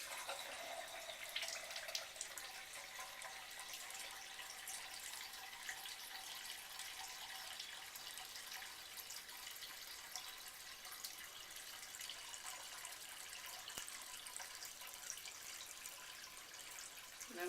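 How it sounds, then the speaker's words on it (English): Cold tap water pours steadily into the tank of a Kangen SD501 water machine, a continuous hissing trickle heard alone at moderate level. "And you always make sure the water is cold. And go ahead and let it fill up to the 1 liter mark or thereabouts."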